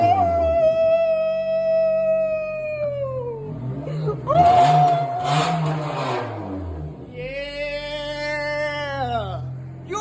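A Honda Civic with a welded straight-piped exhaust revs loudly and close, rising to high-pitched wails and dropping back, with several revs over about ten seconds and a voice cutting in briefly mid-clip.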